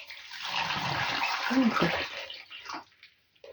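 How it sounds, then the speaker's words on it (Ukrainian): Salted water poured into a jar of cucumbers for fermented pickles, a steady close splashing and gurgling pour that thins to a few drips and trickles as it ends. "Повну баночку воду заляла"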